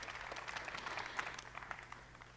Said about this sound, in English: So a big round of applause for Deepak.